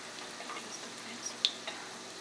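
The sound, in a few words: pakoras (dumplings) deep frying in oil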